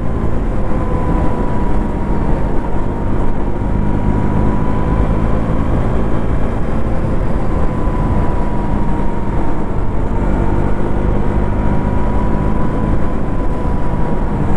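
A 2025 KTM Duke 200 motorcycle shifting smoothly up through fourth, fifth and sixth gear, its engine a steady, loud, continuous drone with a slowly gliding tone and strong wind rumble, and no voices.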